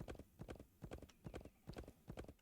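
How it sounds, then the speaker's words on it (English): Horse hooves clip-clop in the Wild West Dynasty video game, a brisk, regular trotting rhythm of paired hoof strikes, close and clear, with no talking over them. "let's call our magic horse"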